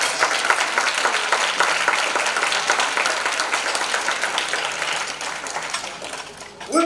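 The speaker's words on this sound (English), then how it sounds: "So give her a hearty round of applause." An audience gives a hearty round of applause after an unaccompanied singer, a dense, even patter of clapping from many hands that slowly thins and fades, moderately loud and indoors.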